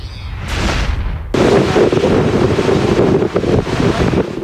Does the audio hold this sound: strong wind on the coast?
yes